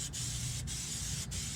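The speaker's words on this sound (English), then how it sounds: "just kind of spray it evenly everywhere." Cleaner is sprayed evenly over a truck during a home wash, a near, steady hiss broken by three short pauses as the trigger is released, with no talking.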